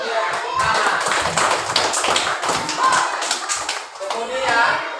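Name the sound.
class of children applauding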